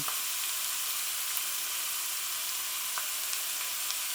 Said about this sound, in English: let those sizzle away